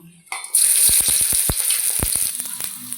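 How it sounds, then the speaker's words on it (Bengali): Onion and chili hit hot oil with a sudden loud sizzle that settles into steady frying, punctuated by sharp pops and crackles. "পেঁয়াজ আর লঙ্কা একটু ভালো করে ভেজে নেব।"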